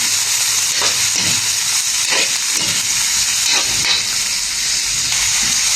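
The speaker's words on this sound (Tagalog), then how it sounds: "At haluin natin ulit para lumambot ang gulay." Vegetables for chop suey stir-fry in a hot pan with a loud, constant sizzle and hiss, broken by a few scraping stirs at irregular intervals, heard close up with no talking.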